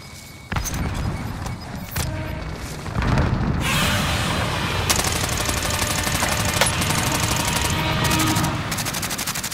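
Video game combat with a frag grenade thrown, then sustained rapid gunfire and blasts, loud and dense throughout, with no talk.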